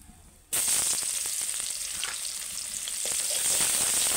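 Chopped onions hit hot oil with a sudden sizzle that settles into loud, steady frying, crackling close by.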